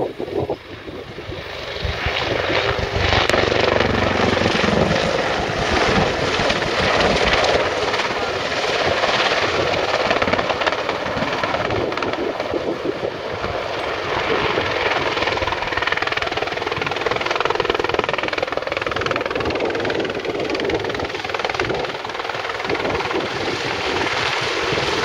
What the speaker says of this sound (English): Together for the 2014 attack helicopter display team